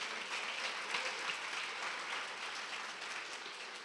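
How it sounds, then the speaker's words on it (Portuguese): A church congregation applauds during a sermon, a steady wash of many hands clapping that stays even throughout, soft and somewhat distant, without speech. "Você pode dizer amém, entregar um aplauso ao nosso Deus?"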